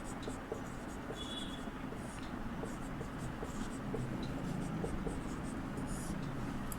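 Steady scratchy strokes of writing on a board in a Hindi classroom run for several seconds, with soft background noise and faint room sounds around them.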